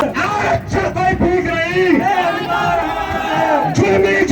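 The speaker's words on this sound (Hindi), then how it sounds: "इधर भी भीड़ है, उधर भी भीड़ है" A crowd of protesters at a Bharat Bandh rally called by SC/ST communities in India shouts and chants nearby, voices rising and falling in a dense, loud babble.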